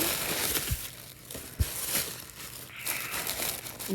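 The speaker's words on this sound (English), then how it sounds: "and then a load of tissue paper here" Tissue paper from a Jeffree Star makeup order, packed under logo tape, crinkles and crushes in bursts with a few sharper rustles, close and fairly soft, no talking.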